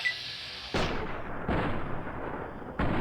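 Three loud, sharp gunshots from Fallout New Vegas ring out at a slow, uneven pace, each a heavy broadband crack with a decaying tail, heard alone.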